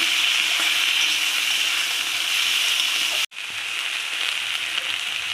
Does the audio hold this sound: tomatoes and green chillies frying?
yes